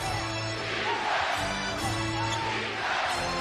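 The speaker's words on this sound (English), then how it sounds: "The Garden crowd has been begging for stops down the stretch." Basketball arena crowd at Madison Square Garden during a close game, a steady broad roar of many voices throughout, loud and continuous with no distinct cheers standing out.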